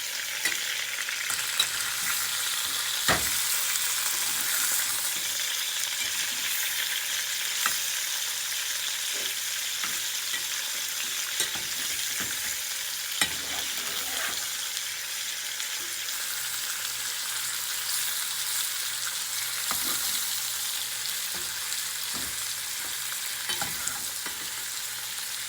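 Chicken browning in a pot for Puerto Rican arroz con pollo, a constant close sizzle lasting the whole stretch, punctuated by occasional spoon scrapes and taps as it gets stirred, with no one speaking.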